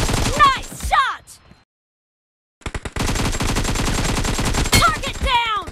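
AKM assault rifle fire in PUBG: rapid, evenly spaced automatic bursts, loud and close, broken by a short silent gap, with brief voiced game callouts over the shooting.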